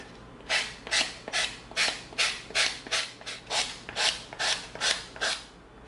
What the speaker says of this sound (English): 80 grit sandpaper. Let's get off some of these bandsaw marks on the side.